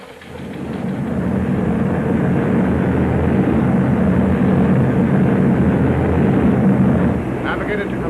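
Twenty-seven heavy bombers pass overhead at about 12,000 feet, a loud, steady roaring drone that swells in after the first second and holds unbroken, with no voices.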